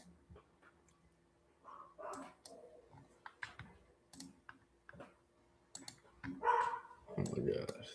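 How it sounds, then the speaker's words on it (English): Dogs barking indoors, a few short sharp barks and yelps scattered among clicking and tapping, with a louder burst near the end, while a person talks close by. "Oh my gosh, these dogs"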